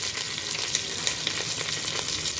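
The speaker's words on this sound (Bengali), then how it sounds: "এখন এই আদা রসুনটা একটু ভেজে নিব পেঁয়াজের সাথে।" Ginger garlic paste sizzles in hot oil with browned onions while cooking beef khichuri, a steady, close, crackling fry with small pops throughout.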